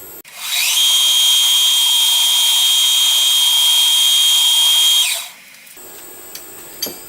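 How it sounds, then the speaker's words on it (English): A CNC mill spindle spins up to a loud, steady high-pitched whine while drilling holes in a steam chest cover for a model mill engine, holds for several seconds, then winds down, followed by quieter mechanical hum and a couple of clicks. "I've got to drill the matching holes for the gland into the end of the steam chest cover"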